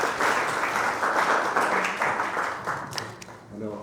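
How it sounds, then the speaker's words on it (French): An audience at a talk applauds, a dense wash of many hands clapping that thins out near the end as a voice begins to speak. "Il y en a qui veulent applaudir."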